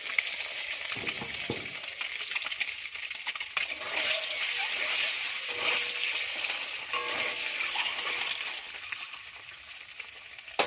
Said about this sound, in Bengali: ডিমগুলো হালকা লাল লাল করে ভেজে নেব।